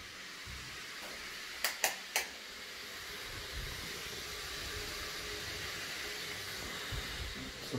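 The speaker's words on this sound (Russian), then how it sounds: "Вот сейчас послушайте, как работает MSI" MSI laptop cooling fans running under mining load, a steady soft broadband whir with faint hiss, interrupted by a few short clicks early on.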